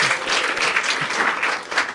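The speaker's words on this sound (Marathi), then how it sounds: "टाळ्या वाजवा एकदा" An audience breaks into dense, continuous applause, many hands clapping at once in a loud, unbroken wash that swells and dips slightly over two seconds.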